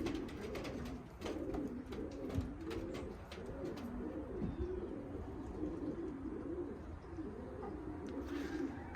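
Young racing pigeons in a loft coo in a steady, repeated rolling rhythm, close and continuous, with several birds overlapping and occasional faint chirps.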